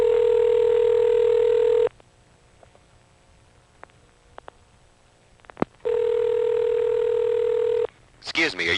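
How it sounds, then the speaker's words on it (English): Two long steady telephone ringback tones from a Bell step-by-step exchange in Kent, Connecticut, in 1980, separated by a silent gap with faint clicks, followed by a brief burst of other noise. "I'm waiting for a tick or a drop in the ringtone level"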